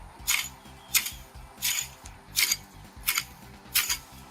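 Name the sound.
garden cutting tool cutting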